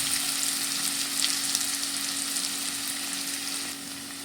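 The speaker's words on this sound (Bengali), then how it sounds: "পেঁয়াজটা আমি নেড়ে চেড়ে ভেজে নেব।" Two chopped onions fry in oil over a medium gas flame for prawn bhuna, a soft, even sizzle with faint crackles and light stirring, steady and close, with no talking.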